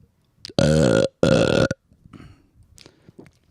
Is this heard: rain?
no